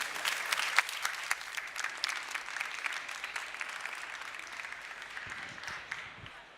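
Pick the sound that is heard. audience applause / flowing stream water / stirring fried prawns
audience applause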